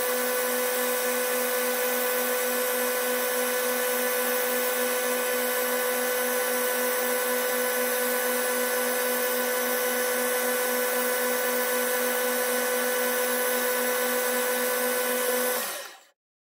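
A lathe cutting grooves into a cast aluminium piston keychain made from recast swarf, a steady high whine with a strong tonal hum that runs evenly and then stops abruptly near the end, loud and close with no voices.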